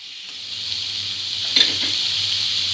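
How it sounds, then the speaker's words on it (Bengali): Raw mango is mixed with salt and turmeric in a pan while a steady hissing sizzle fills the air, with one brief scrape of a spoon partway through and no talking. "ভালো করে আমের সঙ্গে নুন হলুদটা মিক্স করে নেব।"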